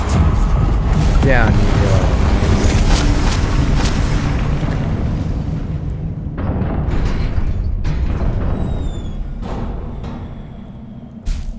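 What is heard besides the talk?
Confringo blasting curse explosion in the video game Hogwarts Legacy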